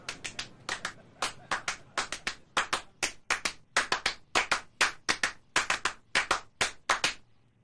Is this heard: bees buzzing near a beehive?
no